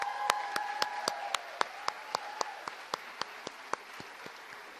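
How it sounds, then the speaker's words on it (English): A small audience at a college senior student-athlete awards ceremony claps sparsely, a dozen or so distinct, evenly spaced claps sounding alongside a faint hum as the applause trails off. "How about another round of applause for that?"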